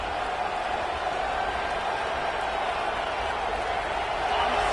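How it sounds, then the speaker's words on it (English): Stadium crowd roaring at a college football game, a steady dense wash of cheering that holds loud and unbroken throughout, swelling slightly near the end. "listen to this crowd coming through"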